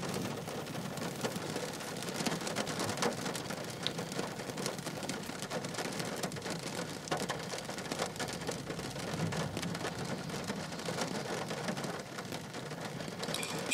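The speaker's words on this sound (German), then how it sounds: "also laut dem Radar tut die Gewitterzelle ganz schön schwächeln" Steady rain falls during a thunderstorm whose cell is weakening, a dense continuous patter at moderate level with no distinct thunderclap standing out across the stretch.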